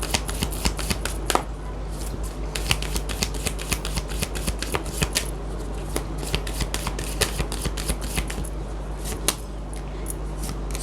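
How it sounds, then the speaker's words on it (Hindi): Oracle card deck being shuffled by hand during a tarot-style reading, a close, loud run of rapid riffling flicks and snaps lasting throughout with no talking. "जाते जाते हम साईं बाबा के डेक से आपके लिए एडवाइस ज़रूर निकालेंगे।"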